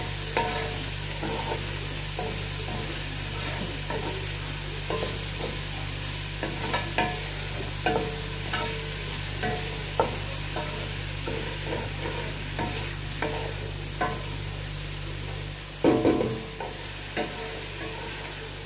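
Vegetables including carrots sauté in a pan for a healthy orzo dish, a steady sizzle under repeated stirring scrapes, with a louder clatter near the end.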